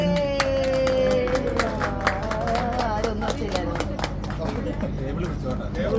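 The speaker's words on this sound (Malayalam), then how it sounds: "കൈയടി കൈയടി" People clap their hands in a steady, quick rhythm inside a family home, the Sreepadmam villa in Ajman, while children and adults chatter and call out over the clapping.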